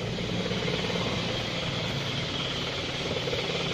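A car engine idles while warming up, a steady, close rumble with a faint knocking texture and no change in pitch, with no voices over it.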